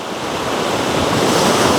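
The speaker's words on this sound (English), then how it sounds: "waves splashing against those rocks." Ocean waves surge and splash against rocks at the water's edge, a loud, continuous rushing wash that swells steadily, mixed with wind, with no voices.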